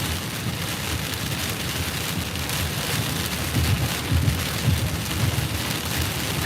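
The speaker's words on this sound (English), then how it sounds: "I can't tell you how hard it's raining" Heavy Hurricane Ian rain pours down in southwest Florida, a dense, steady roar of drops with low rumbling swells, loud and continuous with no voices.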